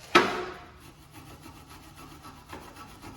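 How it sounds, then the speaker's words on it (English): A brush scrubs rust off rear disc brake hardware from a Toyota Venza. A sharp knock comes first, then faint, repeated rasping strokes, with another scrape near the end. "you get a brush, wire wheel. You can take it over to the wire wheel if you want. You just clean all this up."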